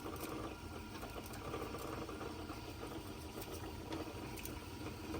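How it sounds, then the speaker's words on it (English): A Sony TC 250A reel-to-reel tape recorder runs in rewind, a steady whirring mechanical drone with faint rattling and ticking throughout, close and continuous with no voices. "So let's rewind the tape"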